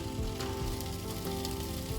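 Chopped sausages sizzle and fry steadily in a pan on a stove inside a Ford Transit camper van, a continuous close crackle with small spitting pops and no talk.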